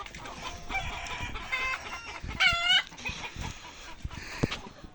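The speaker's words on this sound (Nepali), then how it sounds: "उता फुल पार्ने पोथीहरू।" Egg-laying hens cluck and chatter close by, with one rising crow-like call in the middle of a noisy flock.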